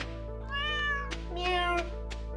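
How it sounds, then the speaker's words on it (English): In Stardew Valley, a cat gives two clear meows in quick succession when petted, with soft ambient music behind. "Oh, gotta pet the kitty."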